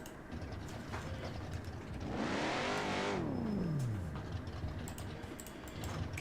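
Loud car engine from a racing video game revs up sharply, holding a high whine for about two seconds before the pitch sweeps steeply down, over a quieter steady engine drone.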